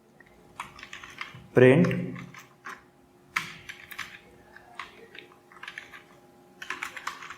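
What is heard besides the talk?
typing code on a computer keyboard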